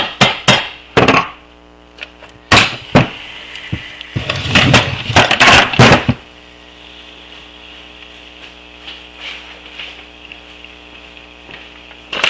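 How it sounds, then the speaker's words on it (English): Sharp metallic smacks strike both ends of a Kymco Super9 scooter crankshaft to center the crank bearings, delivered as several quick bursts of close, loud knocks, then a quiet stretch of faint shop hum. "I'm going to give it a little smack on both ends so that the bearings are centered"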